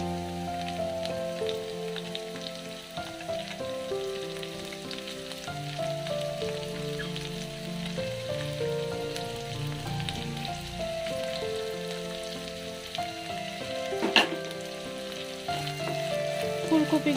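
Cauliflower frying with onions in a pan for veg chowmein: a steady, busy sizzle and crackle throughout, with occasional stirring clinks and scrapes, close and fairly loud.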